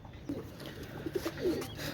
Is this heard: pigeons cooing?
yes